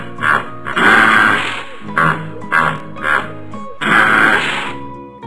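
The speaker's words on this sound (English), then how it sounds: "Hippo." Hippopotamus grunting in a series of loud, deep, wheezy bursts, several short grunts between two longer rumbling calls, close and alone.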